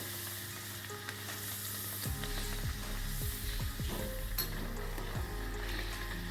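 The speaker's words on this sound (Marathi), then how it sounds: "अशाप्रमाणे तळून घेऊया" Moong dal masala puri frying in hot oil: a steady, even sizzle with a few soft clinks and stirring scrapes of a utensil, close and fairly quiet.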